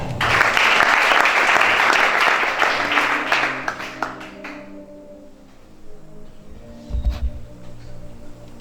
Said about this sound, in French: Acclamez Shaddai.